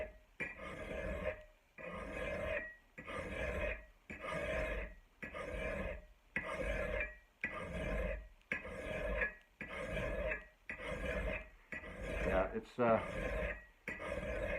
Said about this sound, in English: So I'm going to try it a little bit more here on this, because it's a nice cutting file.